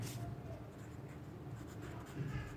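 Pen or marker writing numbers on a board during a class 3 maths lesson, a soft continuous scratching that runs steadily through the clip, fairly quiet, with a teacher's voice faintly present.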